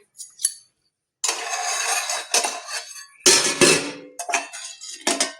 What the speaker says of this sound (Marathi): बेग जाल्लें आसा तर काडटा हांव हितूंतली वाटी